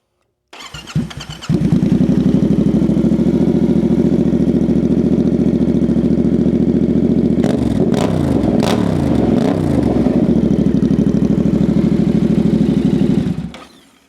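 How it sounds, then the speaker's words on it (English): A Yamaha Tenere 700 motorcycle engine with no exhaust fitted cranks and catches, then runs loud and raw at a rough, rumbling idle with a few revs before cutting off. "I'm gonna fire the bike up real quick and see how it would sound with no exhaust."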